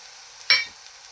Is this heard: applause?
no